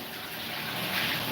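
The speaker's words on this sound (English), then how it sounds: "I'm going to put on a cold water." Cold water runs from a shower in a steady, even hiss of spray that is fairly faint and continuous, with no voices.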